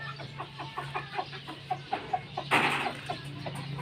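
Gamecocks bred for cockfighting cluck in a repeated, steady series inside a coop, close by and fairly clear, with a brief burst of rustling noise partway through.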